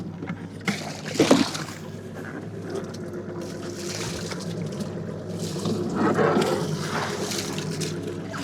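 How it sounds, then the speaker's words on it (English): Water splashes against a small fishing boat during cleaning, with bursts of slosh and spatter over a steady low motor hum. "Couple more water splashes and we're off."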